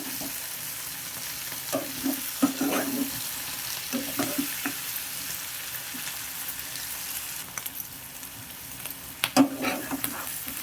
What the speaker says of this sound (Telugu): వంకాయలు కూడా బాగా కలిపేసి